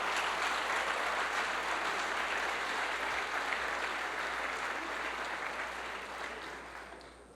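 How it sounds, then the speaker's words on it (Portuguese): Applause from a church congregation giving Jesus a round of clapping, a steady dense wash of clapping that holds evenly for several seconds and fades slightly at the end, heard at a moderate distance. "Dê para Jesus uma forte salva de palmas em cima disso"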